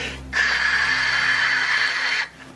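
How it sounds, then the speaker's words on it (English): A steady rushing hiss of wind noise during a parachute descent through Titan's atmosphere rises abruptly, holds for about two seconds, then drops back to a low background rumble. "what you hear is mostly wind noise as the parachute's descending through the atmosphere"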